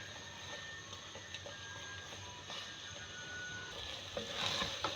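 Minced keema fries and sizzles in a pan, with a steady crackling hiss and occasional scraping clinks as it is stirred, close and fairly quiet, no talk.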